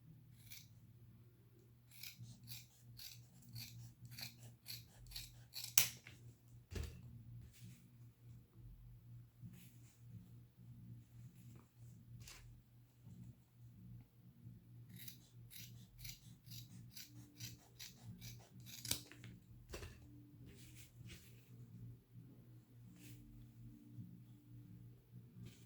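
Scissors snip through homemade coaster material in a quiet room, a series of close, crisp cuts in irregular bursts with brief pauses between them.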